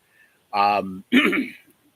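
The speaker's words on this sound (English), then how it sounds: "I had to clear my throat" A single short throat clear, close and fairly loud, in two quick rough bursts with a brief gap between them.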